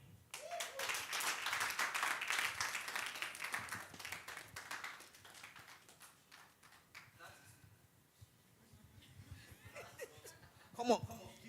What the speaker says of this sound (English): That is not how you clap for someone